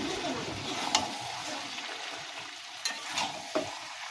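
A hilsa fish head cooked with Malabar spinach is stirred in a pan, giving a soft, low sizzle broken by a few light spatula knocks and scrapes, close but quiet.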